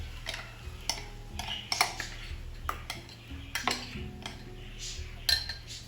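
Metal utensils scrape and clink against a pan as prepared masala goes in with fried onions and black cumin for chana dal, giving repeated sharp taps and stirring scrapes over a low kitchen hum.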